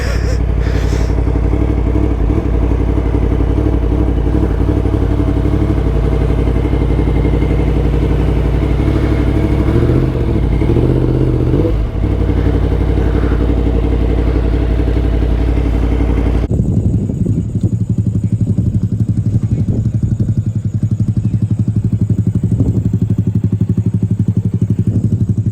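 A Yamaha MT10 fitted with a loud Akrapovic exhaust rides along, its engine a heavy continuous roar with revving swells, then the tone shifts abruptly to a deeper, rougher drone partway through.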